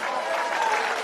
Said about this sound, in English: Now you hear people applauding for that